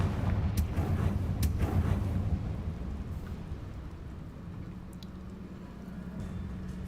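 Confringo blasting spell in Hogwarts Legacy going off as several sharp cracking bursts in the opening seconds, followed by a low rumbling explosion that fades into a softer ambient hum.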